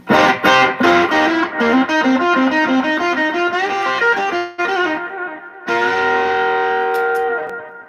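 Electric guitar notes ring out with a repeating delay, echoes trailing each phrase, then a sustained chord fades with lingering repeats.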